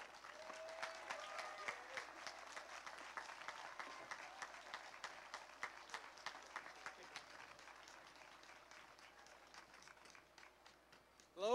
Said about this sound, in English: So I just want to give a big round of applause to Jeff Kerr.